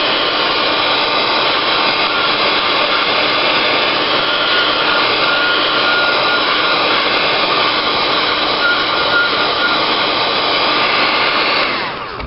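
A craft heat gun roars steadily at close range for about twelve seconds, drying paint on a Halloween craft piece, a loud continuous airy blast with no talk, cutting off at the very end.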